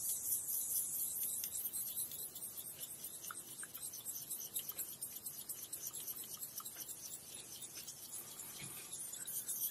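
A blade is sharpened on a Belgian Coticule whetstone with a steady, hissing grind of metal on stone that runs unbroken and close throughout.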